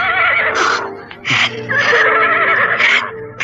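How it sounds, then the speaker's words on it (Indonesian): A panicked horse neighs loudly and repeatedly, shrill whinnies rising and falling close by in a dramatic period-drama scene, with no talk over it. "Kenapa takut mengendalikan kuda yang sedang panik?"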